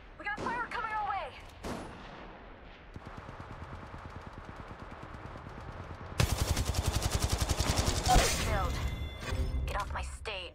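Rapid automatic gunfire in Apex Legends Mobile: a long, fast, evenly pulsing volley builds and then erupts loudly in the second half, with shouted talk from players over it.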